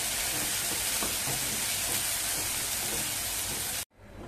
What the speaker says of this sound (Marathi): आपण हे वाटून घेतलेलं शेंगदाणे आणि खोबरं, मिरची हे घालूया. चांगलं तेलामध्ये हलवून घ्यायचं.